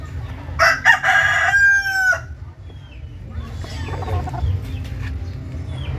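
A young rooster crows loudly and close by in a small backyard, one long drawn-out call in the first two seconds, followed by softer clucking and farmyard noise.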